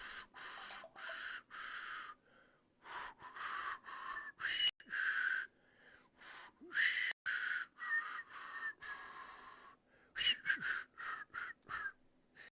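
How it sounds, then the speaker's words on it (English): A man whistles a tune with no backing sound, in separate loud phrases broken by short pauses, close to the listener. "Now that the noise filter is off, let me give you a proper whistle."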